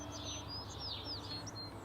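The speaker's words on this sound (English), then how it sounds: "You can hear all the morning birds coming out." Morning birds singing outdoors, several high chirps and whistled phrases scattered across the clip over a steady low background hum, moderately distant and fairly quiet.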